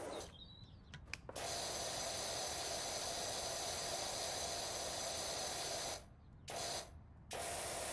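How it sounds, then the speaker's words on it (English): Pressure washer spraying in the game PowerWash Simulator, a steady broadband hiss running almost continuously, briefly cut off near the start and twice near the end, fairly faint and with no talking. "I'll do a little spray."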